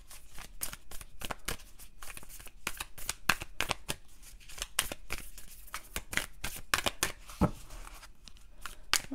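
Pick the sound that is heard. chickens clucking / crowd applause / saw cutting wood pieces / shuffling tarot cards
shuffling tarot cards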